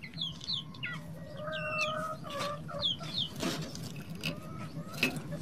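Six Black Australorp crossed with Rhode Island chickens clucking and calling in a pen, repeated close chirpy clucks and squawks over a low steady background.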